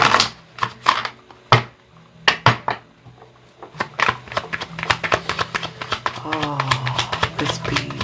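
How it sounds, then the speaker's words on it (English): Tarot cards are handled and shuffled in crisp bursts of snaps and riffles, close up, followed by a longer busier stretch of rustling with a voice underneath. "Let me do a shuffle in front of you."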